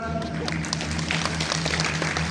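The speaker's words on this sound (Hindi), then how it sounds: "ताली बजाओ एक बार जोरदार" An audience claps and cheers for Anil Kapoor's stage entry at a Bigg Boss OTT show, a dense burst of applause under loud background music and voices.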